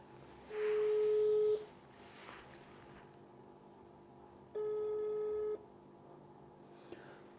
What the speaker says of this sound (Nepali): म एकचोटि फोन गर्छु यहाँ